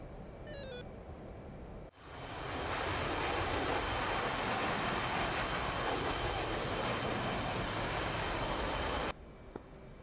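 A pair of A-10 Warthog jets taking off in DCS, a loud roaring engine rush that swells suddenly and holds steady for several seconds before cutting off abruptly.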